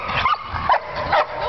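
A small dog gives three short, yappy barks, spaced evenly, fairly close, over a steady background hum.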